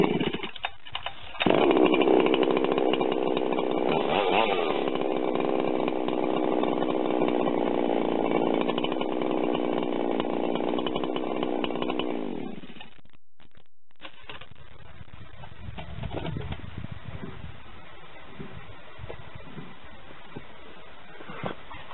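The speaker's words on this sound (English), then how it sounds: "Now there's a lot of leverage happening with that 42-inch bar" A chainsaw fitted with a 42-inch bar roars into life after a drop start, running loud and steady for about eleven seconds before dropping to a lower idle, with outdoor noise following.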